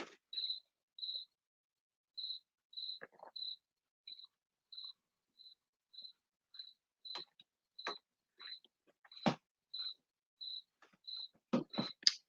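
Cricket chirps come as short, evenly spaced pulses in a steady rhythm, with scattered soft knocks and rustles in between and a louder cluster of thumps near the end.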